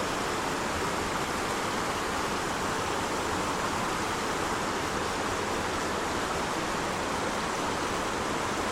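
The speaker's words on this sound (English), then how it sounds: "Let the sound of the soothing water" Continuous rushing water flows steadily, a dense, even hiss like a stream or small waterfall, with no voices.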